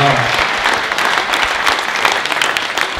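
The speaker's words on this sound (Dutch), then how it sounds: "Nou, echt een applaus." Audience applause at a book presentation, loud dense clapping from a room full of people filling the whole moment, with faint voices mixed in.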